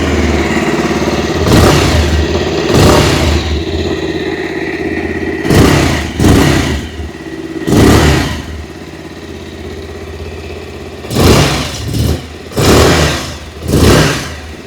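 A 2026 Bajaj Pulsar 180 motorcycle idles with a steady exhaust burble, broken by about seven sharp throttle blips, some single and some paired in quick succession, each rising and falling back to idle.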